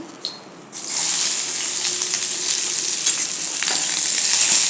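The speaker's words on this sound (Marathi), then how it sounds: "आता कढईत एक दोन चमचे तेल घालायचं आणि याच्यात कांदा घालून घेऊया" Onion drops into hot oil in a wok for a Kolhapuri mutton masala, bursting into a loud, steady, close sizzle that stays strong for several seconds with faint stirring crackles.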